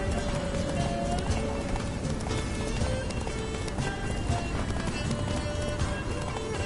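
Rapid clip-clop of a horse galloping in the video game The Witcher 3: Blood and Wine, a continuous rhythmic drumming of hooves under game sounds and ambience.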